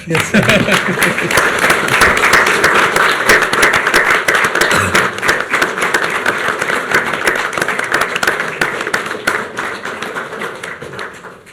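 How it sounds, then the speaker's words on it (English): A township trustees meeting breaks into loud, dense applause from the room, a continuous wash of many hands clapping that holds for over ten seconds before tapering slightly at the end. "Cue the applause."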